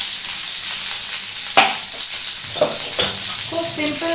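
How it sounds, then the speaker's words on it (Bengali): Onions fry loudly in a pan for paneer salsa, a dense close sizzle with a few stirring scrapes and clanks breaking through. "এখানে আমি দিয়ে দিচ্ছি পেঁয়াজ, একটু এটাকে নাড়াচাড়া করছি"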